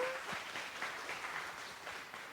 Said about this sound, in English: Could we please give them a round of applause?